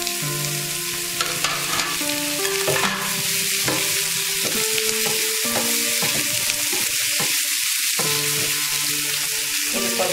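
Tomato, garlic and curry leaves fry in a pan, giving a steady, close sizzle throughout, with the scrape and clink of stirring on top.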